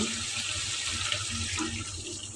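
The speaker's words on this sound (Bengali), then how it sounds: "এখন আমি এর মধ্যে গরম পানি দিয়ে দেব" Hot water is poured into a pot of sautéed duck curry, a steady splashing, running-water rush that stays close and constant for a couple of seconds with no talk.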